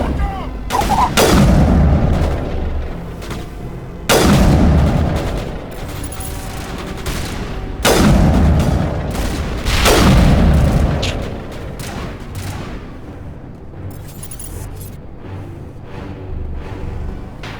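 Grenade blasts in the video game Mass Effect Legendary Edition: four heavy, booming explosions land a few seconds apart, each one loud and close, with rumbling debris and gunfire-like crackle filling the gaps between them.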